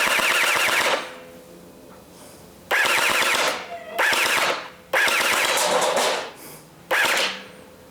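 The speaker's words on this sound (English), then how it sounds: "we managed to achieve the outcome of shooting around corner" A homemade corner-shot gel blaster rifle fires in four loud bursts of rapid full-auto shots outdoors, each burst lasting about a second or more, separated by short pauses.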